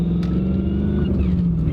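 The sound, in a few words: On3 twin turbo 2011 Mustang GT car driving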